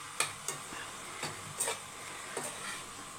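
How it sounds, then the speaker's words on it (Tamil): Shallots, dried red chillies and garlic frying in a pan, with a soft steady sizzle and several brief stirring scrapes and knocks at uneven intervals, fairly quiet and close. "நல்லா வதக்கி எடுத்துக்கோங்க"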